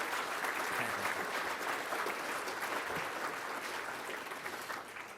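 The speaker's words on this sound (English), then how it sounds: "I want you all to give her a big round of applause," Audience applauding an American editor and publisher at a history talk, a dense, steady wash of clapping from a large crowd that holds strong throughout and tapers slightly at the end.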